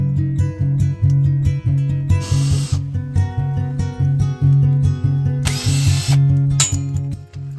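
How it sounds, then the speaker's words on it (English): A power drill whines steadily up close while drilling out steel screws during the restoration of a wooden sailboat fitted with an Evinrude 7.5 hp outboard, its loud motor pitch surging and dipping with brief bursts of grinding as the bit bites. "the steel screws are hard to drill out"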